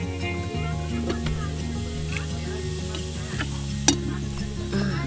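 Cumin seeds sizzling in hot oil in a pan for masale bhat at a campsite, stirred with a utensil in steady scraping strokes under a continuous close fry, with a sharp clink near the end.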